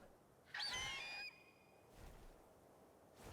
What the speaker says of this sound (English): That bird is really loud.